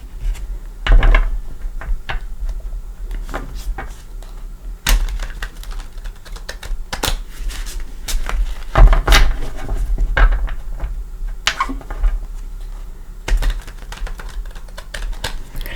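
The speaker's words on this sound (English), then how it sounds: "Let's give it a couple shuffles." Tarot cards from a Light Seer's deck are shuffled during a psychic tarot reading, giving irregular bursts of crisp riffling clicks and soft card taps, close and fairly loud, with short pauses between shuffles and no talking.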